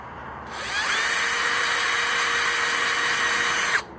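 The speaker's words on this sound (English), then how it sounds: "just drilling out the tabs" A high-pitched power drill drilling out plastic tabs in a 2005 Ford F-250 XLT starts abruptly and whines steadily at close range for about three seconds, then cuts off sharply.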